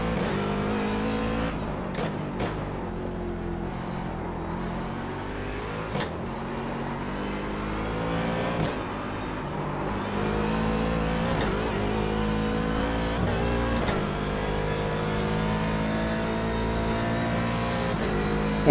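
An IMSA Daytona Prototype race car engine in iRacing at Virginia International Raceway screams steadily through rising revs, with sharp gear-shift breaks and repeated up and down pitch sweeps, loud and close.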